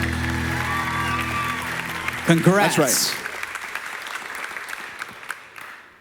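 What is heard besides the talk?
audience applause at a pageant finals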